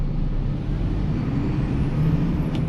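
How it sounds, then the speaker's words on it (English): Lorry with a 4-over-4 eight-speed gearbox pulling away in first gear, a loud, low, steady diesel drone close up, with a faint rising whine and no talk. "So here I'm going to put the lorry into 1st gear."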